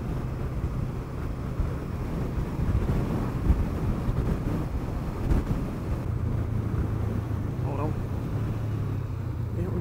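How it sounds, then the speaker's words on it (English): Steady wind roar buffeting the microphone with a low rumble throughout, loud and continuous, with no pauses, while riding a Honda CBR500R motorcycle at night. "It is very windy."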